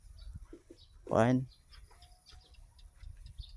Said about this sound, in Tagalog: Oh, manok.